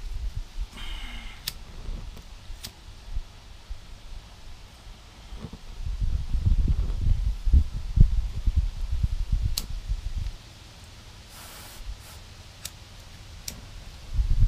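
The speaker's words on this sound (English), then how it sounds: "Windy." Wind gusting outdoors beside a beehive while a smoker is being lit, a low broadband rumble that swells for several seconds then eases, with faint ticks and rustles throughout.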